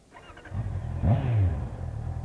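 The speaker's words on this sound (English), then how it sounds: "That exhaust does not sound bad for a stock bike, does it?" Honda CBR 650R motorcycle with its stock exhaust accelerating, the engine note rising under load and then settling into a steady, fairly close drone with no talk.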